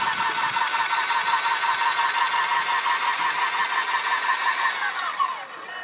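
A grout injection pump runs with a steady, high mechanical whine and hum. Close to the end its pitch sags as it slows under thicker grout.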